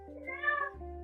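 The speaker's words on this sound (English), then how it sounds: "My cat." A cat meows once in a kitchen during cake baking, a single close, drawn-out meow rising and falling over a low steady hum.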